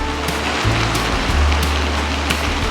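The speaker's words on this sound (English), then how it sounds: "I love how it just follows this little river." Steady broadband rush of a small river flowing, continuous and fairly close, with low rumbling thumps underneath and no voices.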